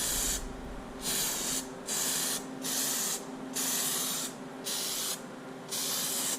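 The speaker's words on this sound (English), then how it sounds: "We're about ready to spray the brass monkey." Brass Monkey PlastiDip coating is sprayed onto a Chevrolet Silverado in a steady series of evenly spaced hissing bursts, each about half a second long, with quieter hiss between them.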